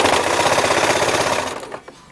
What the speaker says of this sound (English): you're just gonna finish sewing in your waistband